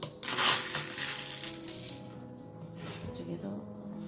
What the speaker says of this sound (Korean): 하이드로볼을 가위를 조금씩 넣겠어요.